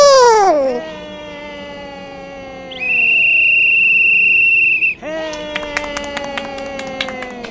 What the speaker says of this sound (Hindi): और बंदर सीटी बजाकर शुरुआत करता है।